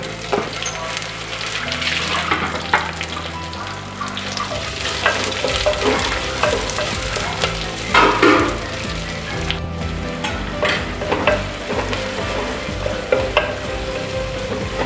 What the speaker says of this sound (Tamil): வெங்காயம் நல்லா ப்ரௌன் கலர் வர வரைக்கும் வறுத்துக்கணும்.